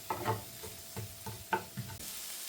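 Mushrooms, onion and garlic fry in a pan with a soft, quiet sizzle broken by several rhythmic scraping stirs nearby.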